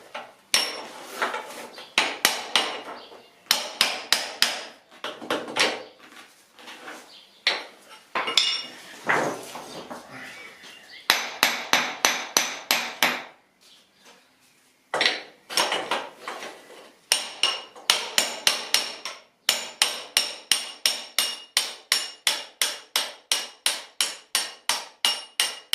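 A spindle is hammered out during a Suzuki GSX-R 600 SRAD motorcycle restoration. Sharp metallic hammer blows land close by in quick rhythmic bursts, pausing briefly midway before a steady run of evenly spaced strikes.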